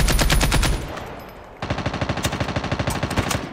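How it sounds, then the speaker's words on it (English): Rapid automatic gunfire in the mobile shooter Call of Duty Mobile, loud and close, in dense bursts with a brief lull before a fresh stream of rhythmic shots. "putting bullets on him"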